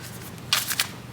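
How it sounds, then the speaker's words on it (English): Tarot cards are shuffled in a few quick riffling bursts close to the microphone, crisp papery flutters against a quiet room with no talking. "We're going to just shuffle out a ton of tarot"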